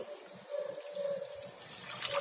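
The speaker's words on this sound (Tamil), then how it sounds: "ஒரு 1/2 கப் போல நான் தண்ணி விட்டுருக்கேன்." Water poured from a cup into a kadai on the stove for sugar syrup for laddu, a steady close trickling gush lasting a couple of seconds with no voice.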